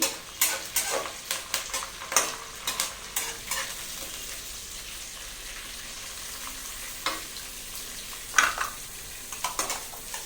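Curry leaves and onion fry in oil in a pan, a close, light sizzle under frequent spoon scrapes and clinks against the pan, busiest at the start, then quieter.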